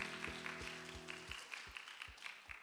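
A Korean church congregation at a Sunday service in Bellevue claps faintly in a steady rhythm, about three claps per second, over sustained keyboard tones.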